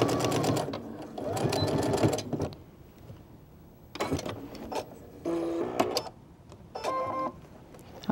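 A domestic sewing machine stitches a denim clutch seam in several quick bursts of rapid mechanical whirring, separated by short pauses, loud and up close.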